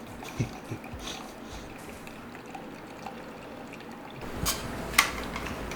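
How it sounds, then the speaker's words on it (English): Water is poured into soy sauce in a home kitchen, making a faint, light trickle with a couple of brief clatters near the end. "I add water to dilute it more"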